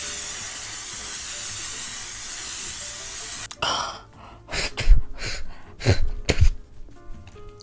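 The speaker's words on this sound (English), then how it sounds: "I gotta shake it up because it is hairspray," Facial setting spray from a shaken can gives one steady, close hiss lasting a few seconds, then stops, followed by nearby coughing and throat-clearing sounds.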